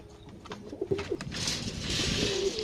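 A pigeon coos nearby in a few soft, throaty notes, followed by a rush of fluttering wings.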